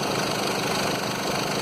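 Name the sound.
Sprinter 313 engine noise from seized alternator pulley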